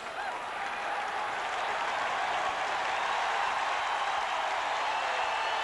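Crowd at a 1987 Raiders at Packers football game cheering and applauding, a broad steady roar of clapping and voices that swells slightly and holds loud and sustained throughout.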